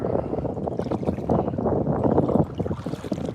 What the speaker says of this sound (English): Kind of wish the wind wasn't blowing